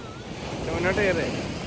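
Surf washes steadily onto a beach in Trivandrum with a constant windy rush, and a brief faint voice rises over the middle of it.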